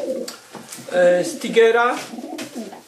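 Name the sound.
pigeon cooing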